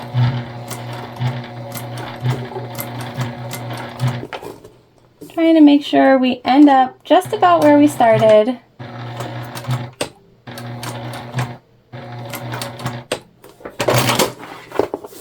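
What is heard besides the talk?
sewing machine stitching a bag, with back stitch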